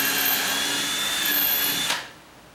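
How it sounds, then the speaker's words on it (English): A power drill set to high speed whines steadily and loudly as it bores into the corner of a rubbing door, then winds down and stops near the end. "I'm gonna drill right down here in the corner and kind of slightly angle"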